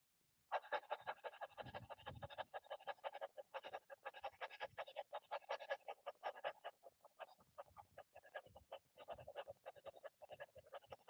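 Rapid, rhythmic panting breaths with the tongue out, a dog-like yoga breathing exercise, run continuously for about ten seconds in quick, evenly spaced huffs, close and fairly quiet.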